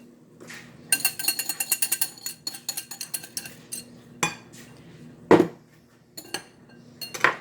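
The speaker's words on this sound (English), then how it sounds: "We're going to stir until combined." A spoon stirs dressing into cowboy caviar in a bowl, with rapid rhythmic clinks and scrapes against the side, then slower separate knocks and taps, close up with no speech.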